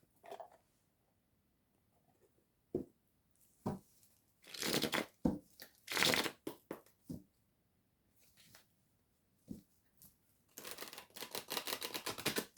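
A deck of oracle cards is shuffled in scattered bursts, crisp riffling and card slaps separated by quiet gaps, building to a rapid run of flicks at the end, close and with no talking.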